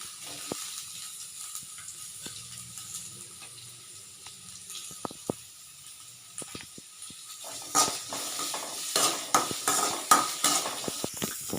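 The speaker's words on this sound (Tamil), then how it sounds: "இப்போ வந்து நம்ம வெங்காயமும் தக்காளியும் வதக்கிக்கலாம்." Onions and tomatoes sautéing in a little oil for a spicy mint chutney make a steady hiss with scattered clicks and taps of stirring, which grow busier and louder toward the end.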